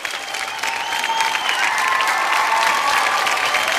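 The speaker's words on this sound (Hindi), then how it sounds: "तो एक बार आप ताली बजा दीजिए।" An audience at a business talk claps steadily in a dense wash of applause that swells slightly and holds, with a faint tonal whine running underneath and no talking.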